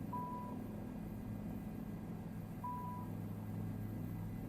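A search and rescue locator in Microsoft Flight Simulator 2024 gives two slow, evenly spaced electronic beeps over the constant drone of a Bell 407 helicopter cabin, with no talking.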